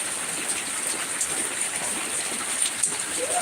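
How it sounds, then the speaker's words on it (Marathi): Rain falling in Mumbai, a steady dense hiss of drops with occasional louder splashes, continuous and fairly close. "आपल्या इथं आता सध्या पाऊस चालू आहे"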